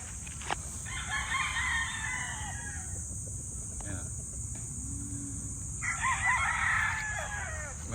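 Tethered gamefowl roosters crow at a distance, two drawn-out calls rising over a steady bed of insect chirring and outdoor hiss, with a lull of background noise between them.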